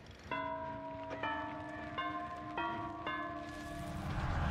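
Church bells tolling in the Dead by Daylight horror game, five clear ringing strikes with long overlapping resonant tones, spaced under a second apart, rising into a wash of noise at the end.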